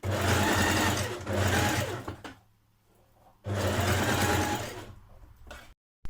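A sewing machine stitches a seam along the facing of a tunic, running in two long bursts of rapid, steady whirring with a quiet pause between and a brief stop near the end.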